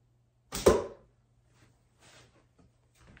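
A single sharp crack from an Osage orange self bow under draw, a loud snapping burst followed by a few faint creaks and ticks in a quiet room.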